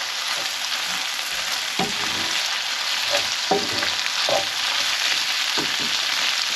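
A savoury mixture for Darlington savoury browns in a hot pan, with a steady close sizzle and occasional soft thumps of a spoon stirring.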